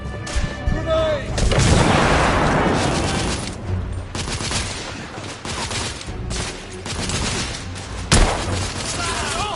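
A grenade explodes with a heavy, loud burst early on, followed by volleys of rifle and machine-gun fire in The Order: 1886, with scattered voices between shots.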